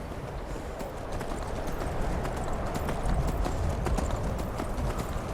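Horse hooves gallop in Skyrim, a Thalmor horse, making a steady, fairly loud clip-clop rhythm that runs throughout, with faint whinny-like sounds and soft ambient noise.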